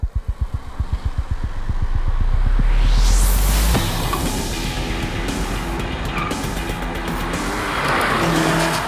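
A Maruti Suzuki Swift, with a petrol engine of under 90 horsepower, idles with a rapid pulsing throb. It then revs and accelerates past in a rising, sweeping roar, and the engine note settles into a sustained drone as the car drives on.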